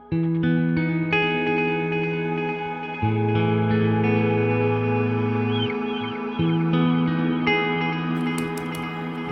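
An electric guitar plays sustained clean chords through an HX Stomp reverb, dry and wet signals both centered, each chord change blooming into a lush echoing wash with no voices.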